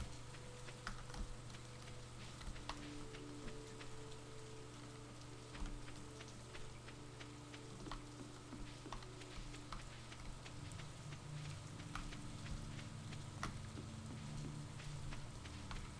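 Steady rain falling in a farming video game, a soft continuous patter with scattered individual drops, faint and even throughout, under a low sustained musical background.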